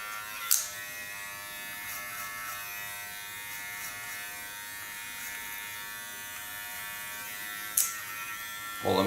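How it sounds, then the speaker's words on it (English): An electric hair clipper trims hair in a steady, faint, high-pitched buzz that runs throughout. Two brief sharp clicks or scrapes break it near the start and the end. "Holding my clipper in an angle, go over the skin and create a nice new frame line of her face."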